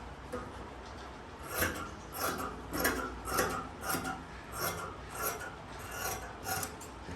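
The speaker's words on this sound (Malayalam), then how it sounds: "ഇതും അങ്ങോട്ട് കട്ട് ചെയ്യും" Scissors cut fabric along a marked line in a series of about ten rhythmic crisp snips, close and fairly quiet, evenly spaced with no voices.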